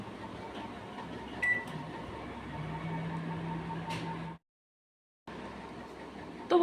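Microwave oven running while cooking bitter gourd, a steady low hum with a faint whir, close and quiet, cut by a brief silence before the hum resumes.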